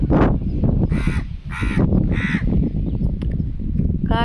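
A crow perched nearby in a rural outdoor setting caws three times in a steady rhythm, loud and close, over a constant low rumble of background noise, with a faint bird chirp at the end.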